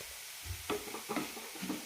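Tomato and grated coconut heated in a pan for Palakkad-style tomato chutney, giving a brief, quiet sizzle with a few soft stirring scrapes.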